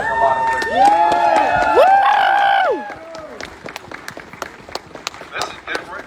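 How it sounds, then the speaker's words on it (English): A rally crowd in Schodack, New York claps and cheers loudly for a couple of seconds, with shouted voices rising over the noise, before it thins into scattered claps and murmuring talk. "You guys clap it up for Heather."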